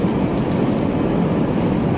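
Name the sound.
train passing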